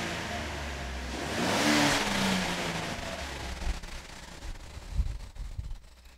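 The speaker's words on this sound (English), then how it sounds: "I'm going to go ahead and give it some gas" A car engine revs as the throttle is opened during an oscilloscope voltage test, a fairly quiet swell of engine noise that rises and falls, followed by scattered knocks and clatter.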